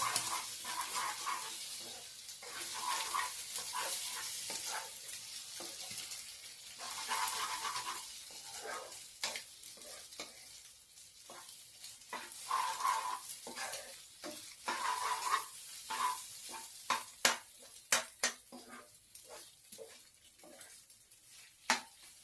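Scrambled eggs stirred in a pan produce a faint, close sizzle with soft scraping strokes that become sparse, irregular taps and scrapes toward the end, with no talking.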